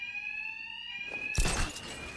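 A steady high-pitched electronic alarm rings continuously in the Batman: Arkham Knight video game, joined midway by a loud crashing impact, with no talk.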